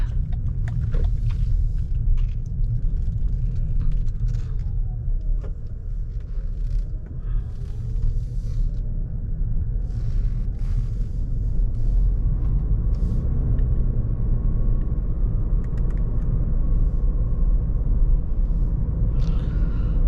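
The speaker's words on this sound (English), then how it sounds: "I have a car coming from that side." A steady low road rumble inside a Lexus NX350h at night as another vehicle passes, continuous and fairly loud throughout, no voices.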